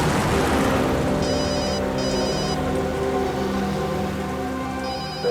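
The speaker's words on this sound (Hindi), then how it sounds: "दयाबेन का फोन।" A telephone rings in short repeated bursts over a steady background of music in a Hindi CID TV episode, with no talk heard.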